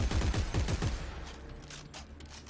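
Gunfire in Dead Space 3, a quick run of several loud shots in the first second that fades into lingering echo and low game ambience.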